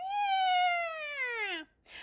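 A human voice imitates a cat with one long, drawn-out meow that slides downward in pitch, followed by a brief breathy noise.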